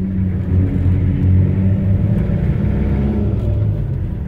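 A Toyota Hilux engine rumbles steadily while driving, loud and close, with a low droning tone that swells slightly as it pulls along the road.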